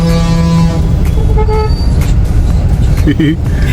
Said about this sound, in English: So there's traffic.